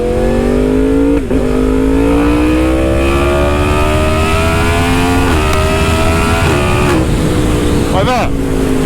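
Motorcycle engine accelerating up through the gears while riding in winter, a loud steady drone with pitch climbing then dropping at each shift, several shifts in a row, close and continuous.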